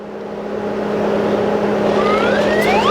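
A Pinecone INIBOX crypto miner and its power supply run about one meter away, a steady, loud drone with a constant low hum and broad whooshing fan noise, and a faint rising whine near the end.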